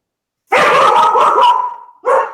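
A female dog barks loudly and close by indoors, a drawn-out yelping bark that trails off, followed by a second short bark.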